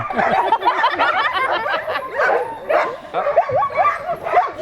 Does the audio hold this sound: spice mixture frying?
no